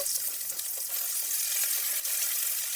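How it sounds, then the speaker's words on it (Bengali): Turmeric-rubbed fish pieces fry in hot oil in a pan on a gas stove, giving a close, steady sizzling hiss with fine crackles and no pauses. "তারপরে মাছগুলো ভেজে নিচ্ছি"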